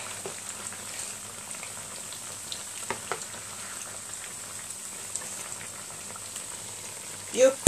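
Potatoes frying in a pan over medium heat, a steady close crackling sizzle with scattered pops and a brief louder clatter near the end.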